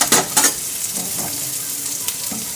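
Food fries in a pan on a home stove, a close, steady hiss with a couple of louder crackling bursts at the start, no voices over it.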